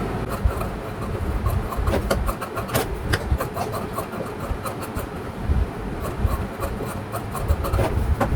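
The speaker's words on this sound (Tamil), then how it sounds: "இப்போ அடிஷ்னலாக இருக்கிறது நம்ம கட் பண்ணி எடுத்துடலாம்" Scissors cut through blouse fabric and lining cloth for a scallop-neck halter blouse, with repeated close rasping snips and rubbing strokes in an uneven rhythm and no talking.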